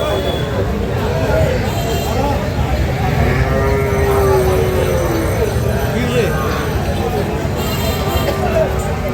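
A local-breed dairy cow lows in a long drawn-out moo amid the steady hubbub of the crowded Kaharol cattle market in Dinajpur, with voices talking all around.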